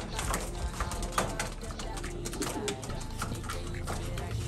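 Pigeons cooing close by in a loft, soft repeated coos mixed with wing rustles and shuffling, with someone talking over them throughout.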